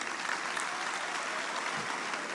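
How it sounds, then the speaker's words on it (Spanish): Congregation applause during a Christian sermon, a full, even burst of clapping from many hands that holds steady for a couple of seconds. "Un aplauso al Señor"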